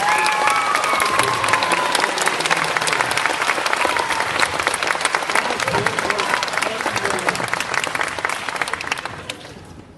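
A school awards day crowd applauds steadily, a thick, continuous clatter of many hands that holds strong for most of the stretch and then tapers off toward the end, with no voices on top.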